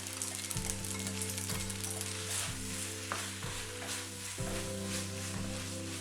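Pasta and fresh spinach cook in a skillet with tahini yogurt sauce and bacon bits, giving a constant soft sizzle with occasional stirring scrapes. A low steady hum runs underneath, and no one speaks.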